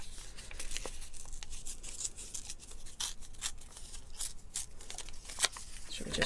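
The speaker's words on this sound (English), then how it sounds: "Usually we'd cut this, but no time for that, so I'm just going to tear it." Paper is torn by hand for an art journal page, producing a quick run of close, crisp ripping and crinkling bursts at a steady, moderate level.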